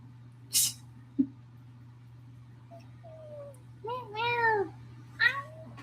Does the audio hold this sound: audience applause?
no